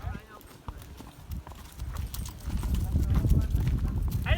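Horse hooves clop along in an uneven series of hollow strikes, close and growing louder, with people talking and chattering over them throughout.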